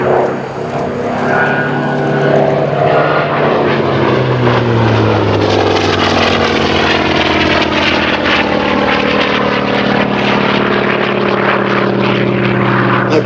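A Hawker Sea Fury, a British propeller fighter, flies a display pass with a loud, continuous engine roar and propeller buzz whose pitch shifts as it passes, with no talk.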